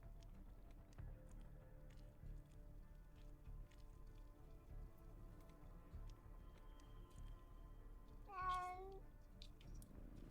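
A cat in the video game Undawn gives a single clear meow near the end, rising and falling in pitch over a quiet, faintly ticking game background.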